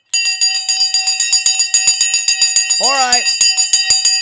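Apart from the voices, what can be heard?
bell rung to open the trading show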